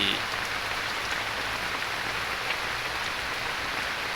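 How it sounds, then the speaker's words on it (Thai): Steady rain pouring down at a farm hut beside a palm plantation, a dense, even hiss of drops on surfaces close by, continuous and with no talking. "แต่วันนี้ก็คือ ฝนได้เทลงมาแล้วครับ"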